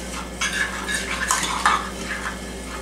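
Sugar is stirred into melted butter in a bowl for a blueberry pie, with soft scraping and clinking of a utensil over a steady background hum, close and without speech.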